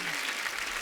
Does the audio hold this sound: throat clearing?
no